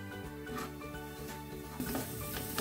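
Sweet potato pieces coated in masala sautéing in a pan, a soft steady sizzle beneath a looping musical background, rising slightly toward the end.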